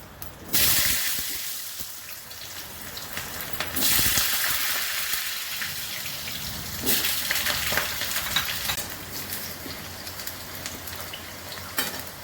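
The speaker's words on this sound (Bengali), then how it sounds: "এবার আমি আলুটা ভেজে নেব।" Potatoes frying in hot oil in a pan over a tempering of dried red chilli, bay leaf, cumin and garam masala, with loud bursts of sizzling and hissing as pieces go in and are stirred, then a steady crackle.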